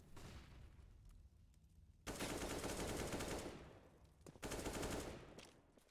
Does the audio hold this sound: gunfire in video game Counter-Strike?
yes